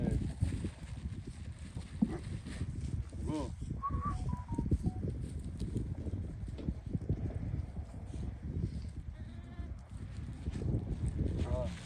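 Sheep just back from the desert, with newborn lambs nearby, bleat now and then over steady clopping hooves and farmyard shuffling; someone speaks and hushes them in between.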